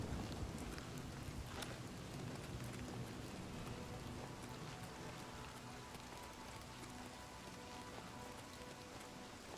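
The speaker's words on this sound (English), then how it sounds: "Yep, it's definitely raining." Rain pours steadily on the ground in Oblivion Remastered at night, a soft continuous hiss with scattered drop patters, faint and unbroken with no voices.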